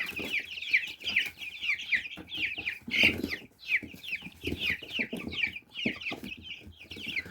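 Chickens and young chicks cluck repeatedly in a poultry yard, a steady stream of short overlapping clucks at close range with no talk.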